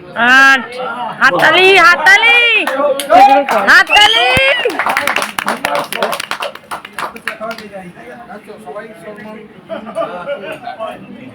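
Guests at a Bengali rice-feeding ceremony break into scattered hand clapping amid loud singing and excited crowd chatter, the claps tapering into lighter, sparser patters under a murmuring room toward the end.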